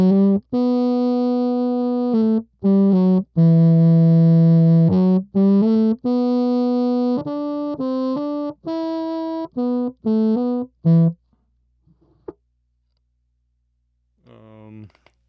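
Clean bassoon tone through a Soundtech powered mixer and 12-inch PA speakers, a run of sustained and short reedy notes played alone, then near silence with a faint note at the end.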